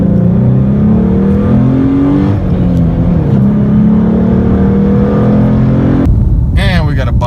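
A 2012 Ford Mustang 3.7L V6 accelerates steadily and loudly in second gear, its pitch rising in a sustained drone, then shifts and climbs again near the end.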